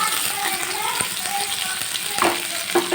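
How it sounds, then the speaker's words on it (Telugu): Green chillies and other ingredients frying in a pan for Karnataka-style bisi bele bath, with a steady loud sizzle and occasional stirring scrapes close by. "వేసుకొని కొద్దిసేపు ఫ్రై చేయాలి"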